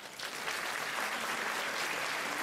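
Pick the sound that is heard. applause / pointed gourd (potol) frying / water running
applause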